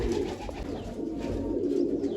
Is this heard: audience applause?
no